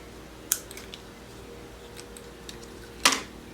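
Scissors snip off excess card stock while making a side-board easel card: two distinct crisp cuts about two and a half seconds apart, close and fairly quiet, with faint ticks between.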